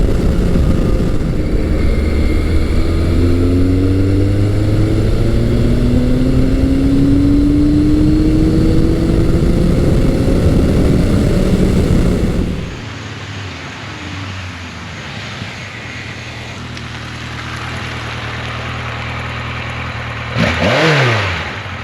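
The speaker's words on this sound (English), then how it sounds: "It is so cool to get to ride these classic big bore Yamahas." Classic 1980s big-bore Yamaha motorcycles (XS1100, FJ1200, XJ1100) rev up loud and close, the engine pitch climbing steadily before dropping away, then settling to a lower drone with a brief sharp rev burst near the end.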